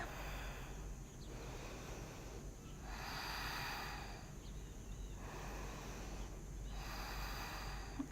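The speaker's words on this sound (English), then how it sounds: "Take a couple of deep breaths." Slow deep breathing during a yoga stretch, about four long swells of breath, each roughly a second and a half, steady and close over a constant low room hum.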